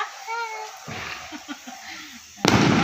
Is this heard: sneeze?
no